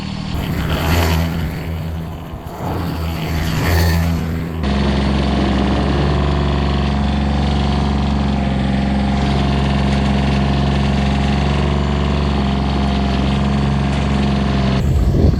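A John Deere 332 garden tractor plowing snow at -30°C roars loudly and steadily, a heavy continuous engine drone with a brief rougher stretch at the start, then sustained labouring under load.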